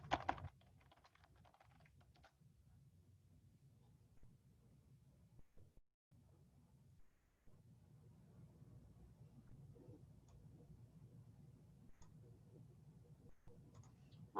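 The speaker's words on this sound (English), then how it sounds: "I'll type it for you." Faint computer keyboard typing, sparse light taps and ticks spread over a low steady room hum, with a louder clatter at the very start and brief gaps.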